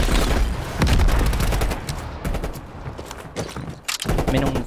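Rapid gunfire from the Call of Duty: Black Ops Cold War campaign, dense bursts of sharp automatic shots crackling loudly with short pauses between volleys, up close, with faint game voices in the mix.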